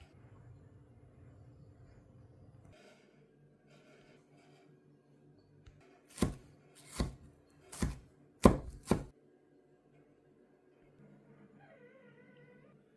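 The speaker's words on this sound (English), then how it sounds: "So that's my chili chopped, onions chopped, garlic, ginger chopped, and tomatoes." A knife chopping chili, onions, garlic and ginger on a board: a quick burst of five sharp, loud chops close by, after a quiet stretch of low background hum.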